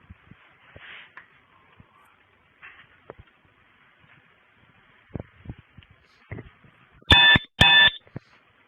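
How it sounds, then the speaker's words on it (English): Two sharp electronic beeps from a police body camera sound close together near the end, after a stretch of quiet rustling and soft shuffling. "That's the body camera, so you know it's on. It'll make that chirp noise every once in a while."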